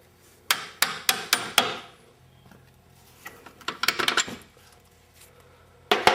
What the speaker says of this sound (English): once you've pounded them out past that, then they should tap out fairly easily.